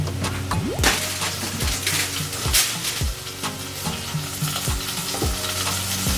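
Spare ribs fry in a pan with avocado oil, a steady loud sizzle running throughout while utensils clatter and scrape against the pan in irregular knocks.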